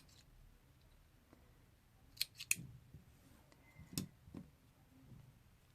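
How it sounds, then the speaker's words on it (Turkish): Scissors snipping crochet yarn ends on a handmade flower-pattern bath scrubber, a few quiet, close metallic clicks and snips in small clusters against a faint, still background. "İplerimin uçlarını da keseceğim."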